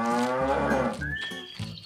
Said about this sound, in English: Cows are enjoying the grass.